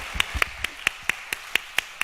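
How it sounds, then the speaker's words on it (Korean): During a Sunday church worship service, sharp, distinct claps land at an even pace, about nine crisp beats close by over a quiet background. "박수 쳐주세요."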